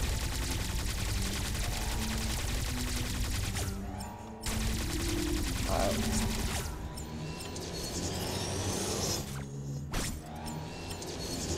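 Dense, loud weapon fire from the Metroid Dread video game, with rapid overlapping shots in sustained bursts and brief gaps near four and ten seconds, layered over game effects with no talking.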